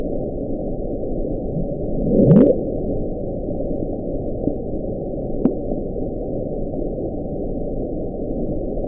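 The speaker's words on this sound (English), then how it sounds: "We call it the Bloop." The Bloop, a loud underwater sound picked up by ocean sensors, heard as a brief low rising swoop over a constant muffled rumbling hiss, followed later by a faint short blip; no voices.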